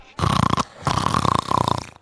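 A human voice imitates a moon elf snoring in two long, rasping, drawn-out snores, loud and close, with a brief pause between them.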